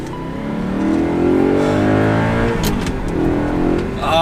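A new third-generation Toyota Tacoma pulls onto a highway on-ramp, its engine rising steadily in pitch and loudness as it accelerates, heard from inside the cab, then settling into a smooth cruising drone.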